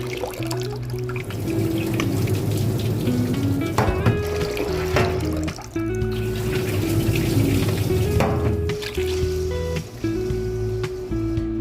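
Basmati rice is washed under a running kitchen tap. Water flows and splashes steadily into the sink throughout, with brief dips in the flow.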